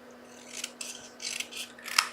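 Scissors snipping paper for a boho storybook craft project: five or six quick, close, crisp cuts in an uneven rhythm, with a faint steady hum underneath.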